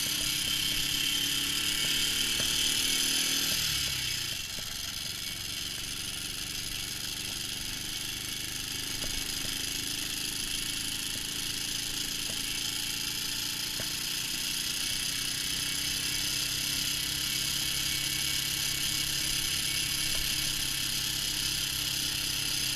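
A Honda Super Hawk motorcycle engine drones steadily while riding along a quiet gravel road, a continuous mid-pitched hum with a louder rev in the first few seconds that then settles into an even, sustained cruise with no talking.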